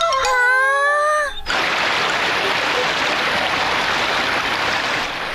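A cartoon waterfall pours with a steady, full rushing hiss that starts abruptly after a short high-pitched, wavering cry and then continues evenly to the end.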